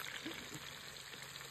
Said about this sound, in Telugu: సో చికెన్ ఫ్రై బాగానే అవుతుంది అనమాట.